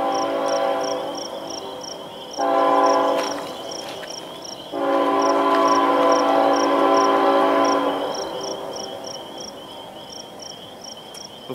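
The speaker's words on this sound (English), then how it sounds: "The first official train of the trip is a CN-100 anniversary unit." A Canadian National freight train led by a CN-100 anniversary unit sounds its horn in two loud sustained blasts in the north woods, with steady rail rumble and constant chirping crickets around it.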